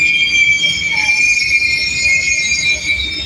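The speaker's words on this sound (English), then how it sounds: "Got that other train pulling out of the way on the backside." An Amtrak train pulls out at a San Antonio, Texas station, its wheels squealing on the rails in a loud, sustained high-pitched screech with a rumbling undertone and no voices.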